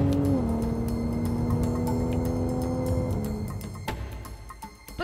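A Porsche 911 Carrera S engine drones steadily while driving, its pitch holding then dropping slightly as the car eases off, loud and close with no talk.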